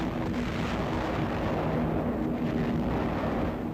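Bombs bursting during a World War II night air attack on a German rail center, heard as a dense, continuous low rumble and roar of blasts without a break, loud and heavily layered, with no voices.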